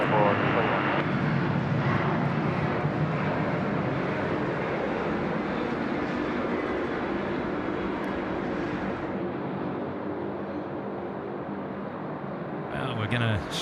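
A Singapore Airlines jet landing at Sydney Airport at night, a broad engine roar that holds steady and then fades toward the end, heard from a distance with a voice talking over it.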